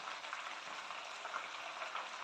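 Chargha chicken frying steadily in a pan, a dense continuous sizzle and crackle that holds close and even throughout, with no talking over it.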